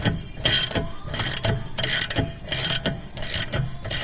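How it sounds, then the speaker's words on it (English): A rear knuckle bushing on a 2012 Ford Flex is pressed out with a long bolt and a press tool, producing a steady run of close, loud ratcheting clicks and grinding mechanical creaks with no pauses. "Well, there's the bushing pressed out."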